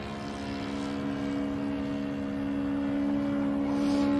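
A Ben Buckle Super Buccaneer RC model airplane flies on its maiden flight at half throttle, its small engine giving a steady, fairly distant drone with strong tonal harmonics that swell slightly, with no talking.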